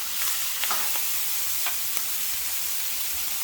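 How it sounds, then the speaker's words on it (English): Frozen rice frying on a flat griddle during chicken wrap prep, a steady, dense sizzle with a few faint scrapes, close and continuous with no talking. "Let the griddle show some love to the rice here."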